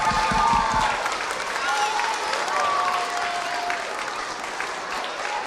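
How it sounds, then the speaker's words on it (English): A school crowd of children and adults applauds for second graders, dense steady clapping throughout with a voice speaking briefly over it near the start. "give a big round of applause to all of our second graders"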